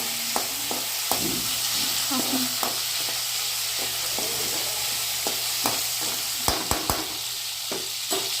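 Green chillies fry in a hot pan with a loud, continuous sizzle, broken by repeated sharp spatula knocks and scrapes against the pan at an irregular pace.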